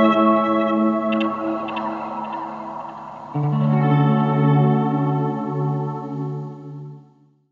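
A passage from an album plays: dreamy shoegaze with heavily effected, chorused and reverb-soaked guitars in layered sustained tones, swelling into a fuller droning chord midway before fading out at the end.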